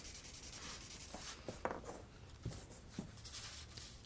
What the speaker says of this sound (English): we're going to put a little bit of pencil and blend that down, back with our trusty Q-tip